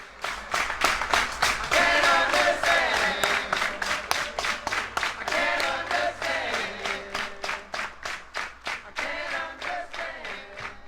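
Studio audience at a band's live anniversary show clapping in strong unison rhythm, loud at first then gradually thinning and tapering, with crowd voices and cheers mixed in.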